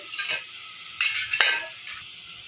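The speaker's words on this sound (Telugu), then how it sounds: "కారం, చికెన్ మసాలా, ధనియాల పొడి, కొబ్బరి పొడి వేసి ఒకసారి కలపెట్టి ఆఫ్ చేద్దాం." A spoon stirs a frying potato dish seasoned with chili powder, chicken masala, coriander powder and coconut powder in a pan, giving a few short scraping clinks over a faint sizzle, with no talk.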